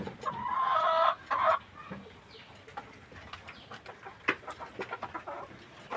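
Two local desi hens cluck close by in a farmyard at feeding time, opening with a loud burst of calls, then quieter scattered clucks and short squawks.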